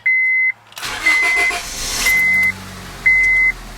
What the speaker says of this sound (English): So I'm going to go ahead and start the car here.